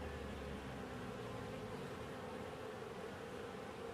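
Honeybees buzzing around the frames of an open hive during a varroa check, a steady faint hum of many insects with no voices.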